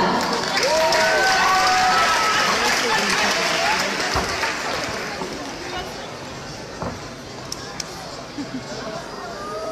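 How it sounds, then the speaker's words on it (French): Audience applause and cheering at a manga cosplay contest, a dense crowd clapping steadily with scattered voices and calls mixed in, fading slightly toward the end. "Je vous demande d'applaudir Tomoyo Sakura et Shaolan."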